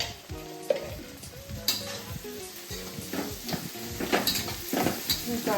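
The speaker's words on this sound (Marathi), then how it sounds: "हळद ही कांद्या परतवलेल्यातच घालायची." Onions sautéing with turmeric in a home kitchen for poha give a steady close sizzle, with a spoon stirring and scraping the pan in irregular strokes and some voices speaking over it.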